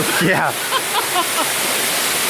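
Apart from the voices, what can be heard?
waterfall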